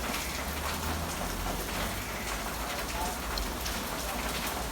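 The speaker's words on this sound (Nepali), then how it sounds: "आज दिनभरि झरी पर्ला जस्तो छ पानी परेको" Steady rain falls continuously, a dense even hiss of drops with a low rumble underneath and no voices.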